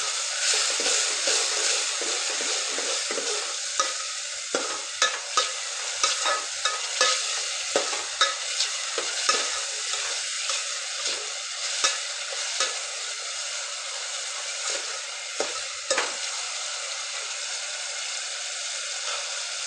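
Tomatoes fry in a pan for soya vadi curry, a continuous bright sizzle broken by frequent clicks and scrapes of a spoon stirring, close-up with no talk.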